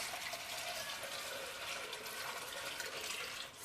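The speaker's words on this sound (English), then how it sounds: "I just covered them with water" Water runs steadily into a pot of black beans for a slow cooker, a continuous broadband splashing and trickling that stays even and close throughout, with no talking.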